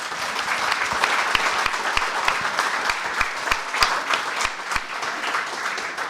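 Applause for a panel of speakers at a talk, a steady wash of many hands clapping across the room with sharp individual claps standing out near the front, no talking over it.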